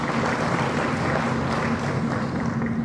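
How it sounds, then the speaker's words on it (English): Audience applause at a high-level economic growth forum with the finance minister, a steady, dense wash of clapping from a large crowd that holds an even level for about three seconds, with no talking over it. "Another clap of hands, please,"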